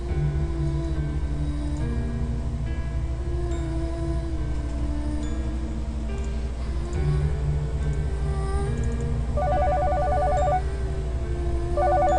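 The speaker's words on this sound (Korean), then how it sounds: "멀리서 전화벨 소리가 들린다." A telephone rings in short electronic trills over a heavy low rumble and steady drone, the ringing repeated a couple of times.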